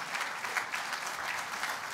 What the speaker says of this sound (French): On peut les applaudir en attendant que les chiffres apparaissent.